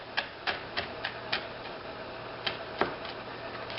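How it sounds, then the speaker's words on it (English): A kitchen knife chops aromatics on a cutting board for BBQ burgers, with several sharp, irregularly spaced taps, fairly quiet and close. "I'm going to chop down these aromatics"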